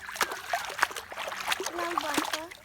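Children splash water in a village pond with scattered short splashes and trickles, mixed with their lively voices calling and talking throughout.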